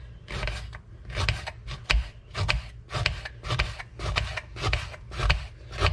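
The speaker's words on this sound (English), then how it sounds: "we're gonna start slicing the onions" A knife slicing onions on a wooden cutting board for tinga de pollo, with a quick, steady run of about a dozen crisp chopping strokes and faint scraping, close and loud with no talking.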